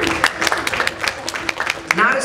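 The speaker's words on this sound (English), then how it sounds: "By round of applause, who's thinking of the number?" At a convention hypnosis show, a few audience members clap in scattered, uneven bursts, with sparse individual claps standing out rather than a full ovation.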